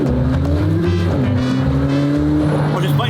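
McLaren Senna hypercar driving with its engine droning loudly and steadily throughout, rear tires scrabbling for traction under load, with a faint squeal near the end.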